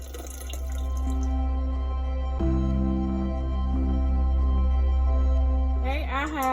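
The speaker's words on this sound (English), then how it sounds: "So I'm gonna take and fill up my glass jar for making my tea." Cold artesian spring water pours into a glass jar with a steady ringing trickle, its pitch rising as the jar fills, heard close and continuous with a brief splash near the end.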